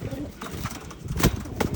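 Two pigeons give soft, short coos close by, with rustling between calls and a voice speaking over them.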